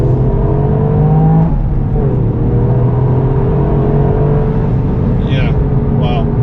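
A Toyota GR Yaris accelerates hard in second gear, its engine note rising steadily in a loud, continuous pull with a brief shift in pitch, and road and wind noise underneath.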